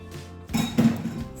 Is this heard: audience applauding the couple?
no